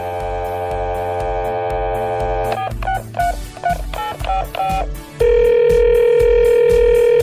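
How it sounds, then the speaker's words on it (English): A telephone call is dialed: a steady dial tone gives way to a quick series of keypad tones, then a continuous ringback tone. "Let's give a little call to Python Blue."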